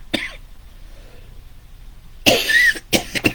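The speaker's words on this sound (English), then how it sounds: "I'm sorry for coughing in your face." A man coughs, one short cough at the start, then after a quiet pause a loud harsh burst of coughing followed by two more quick coughs close to the microphone.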